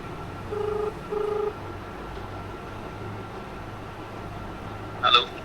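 Telephone dialing to call a lawyer: two short, even keypad-style tones in quick succession, then a pause and a brief brighter tone burst near the end, faint over a low background hum.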